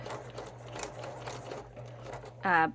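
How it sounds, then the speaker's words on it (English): A sewing machine stitches a Yuletide Christmas stocking with a quiet, steady whirring hum that runs continuously, then a brief louder tonal sound breaks in at the end. "when I sew, I just pick a spot and start sewing"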